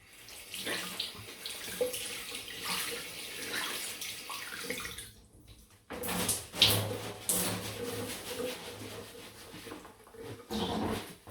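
A bathroom tap runs steadily for a cold-water rinse after a wet shave, splashing into the sink with hands moving through the stream and a brief pause in flow midway.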